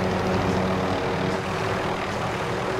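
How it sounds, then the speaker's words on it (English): A helicopter in the video game Warzone Resurgence gives a steady, droning rotor hum that holds at an even level for the whole stretch, with no one talking. "I gotta switch choppers."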